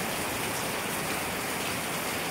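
Heavy monsoon rain pours down steadily, a dense, loud, unbroken hiss of drops hitting surfaces, with no voices over it.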